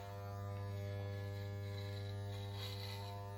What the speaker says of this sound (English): I like the feeling of the cold clipper.